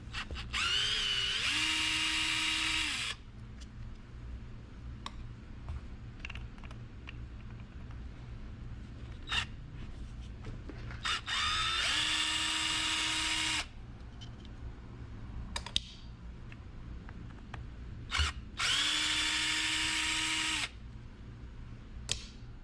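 A power driver spins out Phillips head screws from a Shinemate EX610 polisher in three separate whirring bursts, each a few seconds long, with clicks and handling noise between them.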